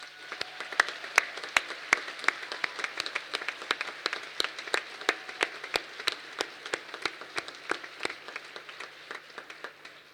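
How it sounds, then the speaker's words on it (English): A graduation ceremony crowd gives a hearty round of applause: dense clapping with sharp individual claps standing out, sustained for about ten seconds before tapering slightly, with a faint hum underneath. "hearty round of applause"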